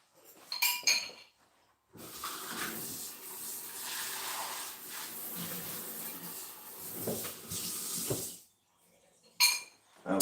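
Dishes clink and rattle while being loaded into a dishwasher, sharp clinks at the start and end around a stretch of rubbing, scraping and shuffling, fairly close and moderately quiet.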